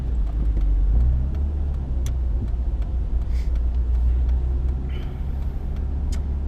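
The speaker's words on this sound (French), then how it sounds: "on a le bruit caractéristique du 6 cylindres" A 1990 BMW 520i E34 with the M50B20 24-valve straight-six runs with a steady, smooth low rumble, heard from inside or near the car, with faint clicks and light road noise and no talking.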